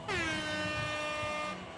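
One loud, sustained air horn sound effect at a skating track event, blaring for nearly two seconds before cutting off.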